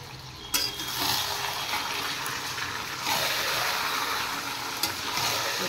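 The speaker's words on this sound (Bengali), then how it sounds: "মাংস পেঁয়াজ ভাজা হয়ে গেছে" Meat and chopped onions sizzle steadily in a hot pan as they are stirred, with a continuous frying hiss and occasional sharp scrapes of the spoon.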